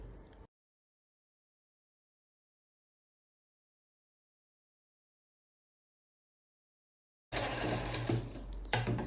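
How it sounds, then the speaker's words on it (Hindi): A sewing machine stitches kurti fabric in a short, loud, rapid mechanical run that starts abruptly after a long stretch of silence and lasts under two seconds. "सेम तरीके से हम यहाँ पे भी सिलाई लगा देंगे"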